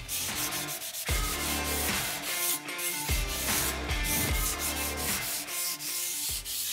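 Wall filler plaster is sanded by hand with 320 grit sandpaper in repeated back-and-forth strokes, a close, loud, rhythmic scratchy rubbing with brief pauses between passes and no talk.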